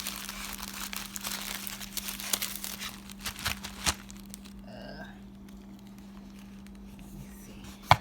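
An Etsy order being slid out of its crinkly plastic packaging, close rustling and crackling with a few sharper crinkles, fading to quieter handling near the end.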